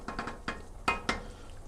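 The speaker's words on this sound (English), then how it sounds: "Give this a stir." Stirring a pot of simmering bolognese sauce: a few close scrapes and clinks of a utensil against the pot in an uneven rhythm over a soft bubbling background.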